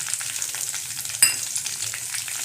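Dried red chillies, broken by hand, crackle in hot oil while tempering for a Tamil breakfast dish: a steady close sizzling hiss with one brief clatter of stirring partway through, no voices.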